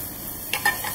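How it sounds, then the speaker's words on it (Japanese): Brief sizzle and stirring clatter as bacon fries without added oil in a deep pot, a few short scrapes over a steady frying hiss, close by. "まずベーコンをよく炒めます。"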